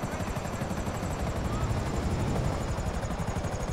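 A helicopter in the video game GTA 5 gives a steady, close rotor thump with a whining drone over it, continuous and fairly loud throughout.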